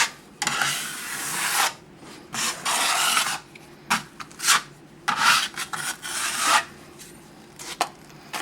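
A trowel spreads a rough first coat of plaster over taped cracks in a plaster wall, making close, repeated scraping and rubbing strokes in uneven bursts with short pauses between them.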